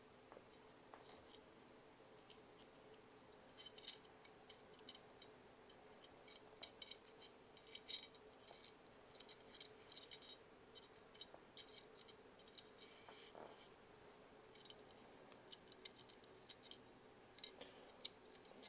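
A Tokyo Marui G18C airsoft slide is cut, giving faint, irregular bursts of sharp snipping and clicking with quiet pauses between them.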